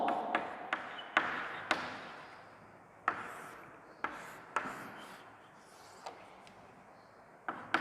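Someone writes on a board during a physics lesson on units and measurement. Quiet, close scratching strokes and light taps come in uneven bursts, heard alone without speech.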